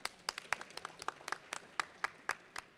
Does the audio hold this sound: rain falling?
no